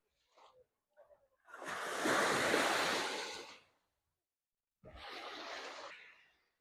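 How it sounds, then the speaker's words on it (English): Two bursts of rushing surf sweep in and fade at Seven Mile Beach, the first long and loud, the second shorter, with quiet pauses between. "I love the sound of waves crashing"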